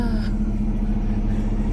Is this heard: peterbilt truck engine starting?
yes